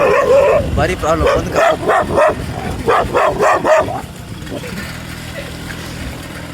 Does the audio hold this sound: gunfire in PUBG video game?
no